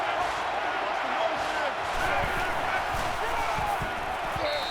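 Stadium crowd noise from NCAA 14 college football, Florida at LSU, a dense, steady roar filling the whole stretch with a high-pitched tone near the end, no voices standing out.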